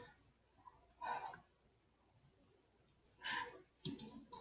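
Keys are tapped on a computer keyboard in short, close bursts of clicks separated by brief pauses, with no talking.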